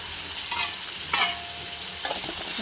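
Curry leaves hitting hot oil in a pan for an eggplant-tomato curry, giving a steady loud sizzle with a few sharper crackling bursts as they are stirred, close up and with no voices.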